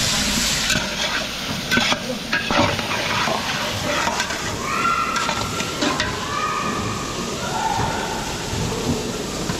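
Chicken breast and other ingredients sautéing together in a pot, with a steady loud sizzle and the scrape and clatter of stirring throughout, with no talking.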